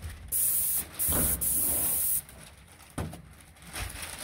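A paint spray gun with a 310 fine-finish tip sprays a garage door in several loud hissing bursts of varying length, separated by short pauses.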